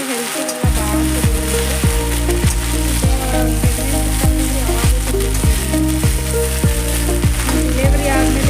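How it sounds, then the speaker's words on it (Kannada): Fenugreek leaves for menthya palya sizzle steadily in hot oil, a dense continuous frying hiss up close, with a faint rhythmic musical background throughout. "ಎಣ್ಣೆಯೊಳಗೆಲ್ಲ ಫ್ರೈ ಆಗಬೇಕು ರೀ ಮೆಂತ್ಯ ಪಲ್ಯ"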